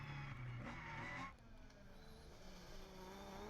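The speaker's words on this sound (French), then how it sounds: "Allez, gros freinage." A rallycross car in a French championship race brakes hard; the engine note is loud at first, then drops away sharply, leaving a fainter, rougher car sound in the distance.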